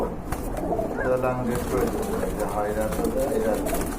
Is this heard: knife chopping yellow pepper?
no